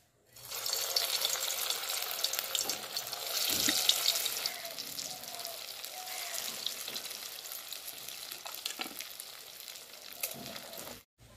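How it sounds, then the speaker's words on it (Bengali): Square-cut lentil-and-egg pieces fry in hot white oil in a kadai, giving a steady, moderately loud sizzle and crackle that holds for about ten seconds, with a brief clatter near the start and no talking. "এবার ভেজে নেব।"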